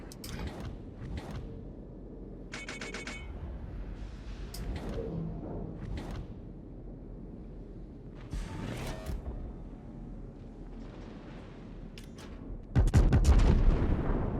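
Battleship Shikishima fires its main guns in World of Warships: several heavy booming salvos spaced through the clip, separated by mechanical creaks and rumble, with a loud, dense burst of cannon fire near the end.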